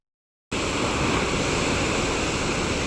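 Sea waves wash onto a beach near a lighthouse, starting abruptly after a brief silence and then continuing as a loud, steady roar of surf with wind noise.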